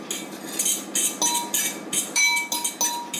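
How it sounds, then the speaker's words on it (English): Metal spoon clinking repeatedly against a mixing bowl while stirring sugar and lemon zest, a quick irregular series of bright ringing taps, close and fairly loud, with no talking. "I hate the way these bowls make this noise."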